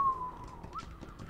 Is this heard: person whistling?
yes